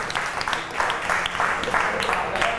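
An audience in a drama class claps together, giving a fairly loud, uneven patter of applause with slight surges, and a little talk mixed in.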